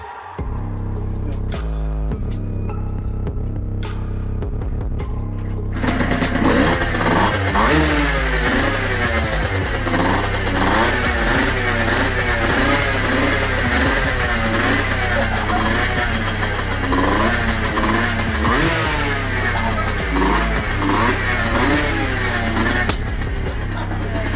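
A motorcycle engine with a MOST 70/80 silencer revs hard and repeatedly, loud and close, its pitch climbing and dropping over a steady idle after a quieter start.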